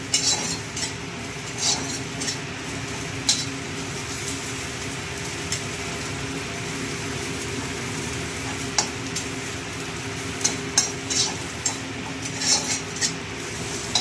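Neem leaves and eggplant frying in a pan over medium heat, a steady close sizzle with occasional scraping and stirring clinks throughout.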